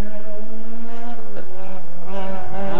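Billy Conley's rally car speeds flat out along stage 7 at Newtown on the 1989 Carlow Rally, its engine howling loud and close with rising and falling revs as it flies past.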